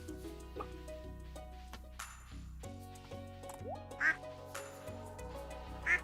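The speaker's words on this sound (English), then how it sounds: "Quack, I heard a duck." Two short, bright duck quacks in the video game Stardew Valley sit over steady looping game music and chiming effects, one around the middle and another near the end.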